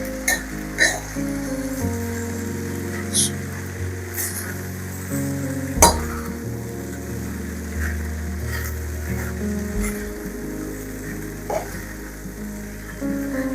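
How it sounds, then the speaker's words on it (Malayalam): A rajma kidney bean dish being stirred and mixed in a pot, soft scraping and occasional clinks of a spoon against the metal over a low steady simmering sizzle, with no voices. "നമുക്കൊന്ന് ഇളക്കി നന്നായിട്ടൊന്ന് യോജിപ്പിച്ചെടുക്കാം."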